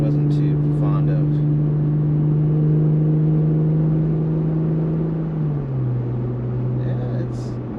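A 2-door Jeep JL fitted with an aFe Rock Basher 3-inch 409 stainless steel cat-back exhaust gives a steady, loud low drone that sags in pitch near the end as the throttle eases, with faint chatter in the background.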